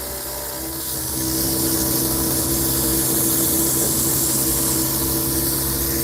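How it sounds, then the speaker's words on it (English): AFX G Plus HO slot car motor running on about 6 volts, a continuous close electric whine and buzz that steps up in loudness after the first second and then holds steady at a moderate speed. "It's only on like 6 volts, that's why it ain't revving too quick."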